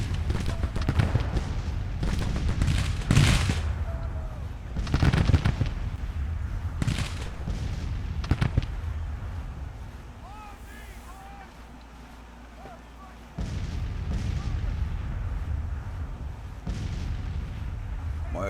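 Massed volleys of Civil War musket fire in a strategy game, sharp booming bursts repeating every few seconds with a rumbling ambient bed between them, loud and close.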